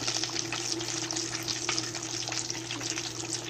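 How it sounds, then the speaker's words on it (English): Chicken wings coated in Hot Cheeto crumbs sizzle and bubble steadily in hot frying oil, a dense, continuous crackle close by with a faint low hum underneath and no talking. "One thing I am noticing is making the oil kind of bubbly like that."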